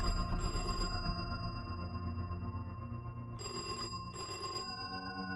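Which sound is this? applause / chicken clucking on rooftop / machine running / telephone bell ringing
telephone bell ringing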